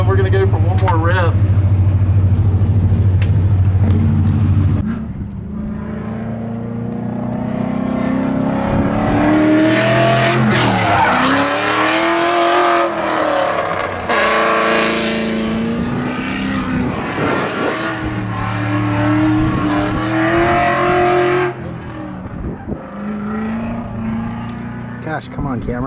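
A New Edge Ford Mustang race car revs hard on track, a loud roaring engine rising and falling in pitch through repeated throttle blips, with a voice talking over it at the start.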